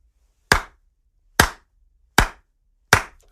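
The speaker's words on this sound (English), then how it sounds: "Slow clap." Four slow, single handclaps spaced almost a second apart, each crisp and close, with silence between them.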